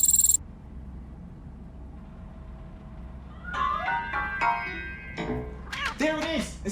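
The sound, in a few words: cat meowing, from the video game RoboCop: Rogue City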